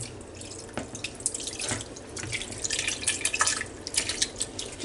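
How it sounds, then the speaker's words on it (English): Sauce mixture poured over chicken for a Hawaiian chicken dish makes wet, splashy trickling and dripping sounds, irregular and close, continuing for several seconds. "we're going to pour our mixture over our chicken."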